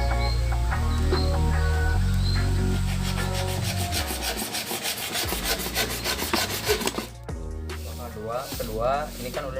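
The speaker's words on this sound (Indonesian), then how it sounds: "Untuk amplas kita gunakan amplas kasar." Rapid back-and-forth rasping of coarse sandpaper on a toothbrush-handle fishing lure, steady and close, with a low hum early on and faint chirps in the background.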